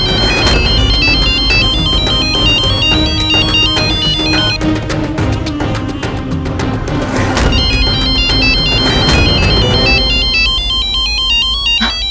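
A mobile phone ringtone plays loudly and continuously with a repeating melodic pattern over a full musical backing, pausing briefly before resuming.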